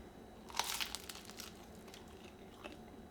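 Someone bites into crunchy homemade focaccia bread, giving a sharp, close crackle followed by a few softer crunches and chewing sounds against a quiet background.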